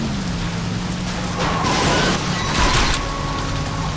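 Steady rain hisses in Saints Row 2, a continuous wash of drops with brief swells of heavier patter and some mechanical clatter beneath.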